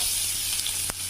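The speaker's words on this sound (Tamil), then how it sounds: "கொஞ்சம் ஜீரகம், ஒரு பிரிஞ்சி இலை, இது பொரியிட்டுங்க. பொரியுதுங்க." Hot oil sizzles steadily as cumin and a bay leaf fry close by, a bright continuous crackle with a brief clink near the end.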